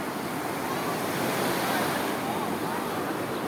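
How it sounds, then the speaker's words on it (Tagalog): Steady roar of ocean surf washing onto shore, continuous and loud with wind noise buffeting the microphone throughout. "Parang matatangay ako ng alon."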